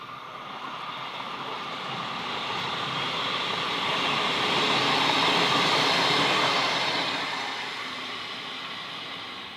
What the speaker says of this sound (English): Lachlan Valley Railway's rail motor running shuttle service to Cootamundra